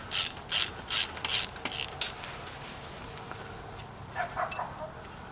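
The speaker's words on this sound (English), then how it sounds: "let's pull these plugs out." A ratchet wrench removing spark plugs from a 1973 VW Bus engine: several close, rapid clicking bursts in a steady rhythm, a pause, then a few quieter clicks.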